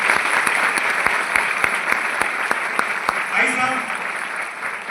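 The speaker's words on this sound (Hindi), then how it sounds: "एक बार ताली बजा दो" An audience at a success-story talk in Bhagalpur, Bihar, claps together in a steady patter of hands with sharp individual claps standing out, while someone speaks briefly over it.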